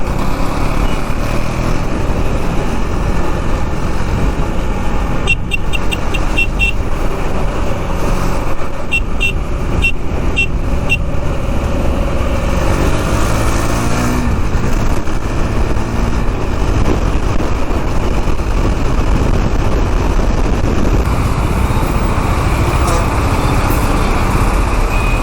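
Busy road traffic heard from a KTM Duke 390 motorcycle, a continuous loud roar of engines and wind, with several short horn beeps around the middle.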